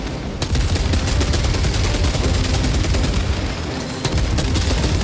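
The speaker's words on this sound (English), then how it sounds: "Oh, I'm being sniped." Dense, continuous gunfire and explosions in the Warhammer 40K: Space Marine 2 video game, rapid cracks piling into a loud, unbroken barrage with a brief lull near the end.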